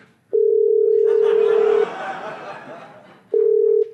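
A telephone dial tone sounds as a loud, steady, unbroken hum near the start, breaks off under a stretch of softer background noise, then returns for a second burst at the end.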